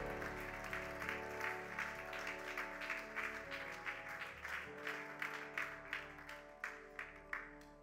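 A church congregation claps and cheers to praise the Lord during a service, a dense, sustained wash of applause with rhythmic clapping pulses over a held musical backdrop, fairly distant and steady for several seconds.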